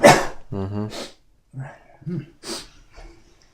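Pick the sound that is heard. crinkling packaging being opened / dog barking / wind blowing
dog barking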